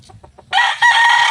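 A rooster crows loudly and close by, a long sustained cry after a few soft clucks.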